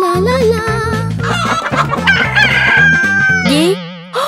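A cartoon chicken crows and clucks loudly over bouncy, busy background music, with warbling squawks and a rising cry near the end before a brief settling tone.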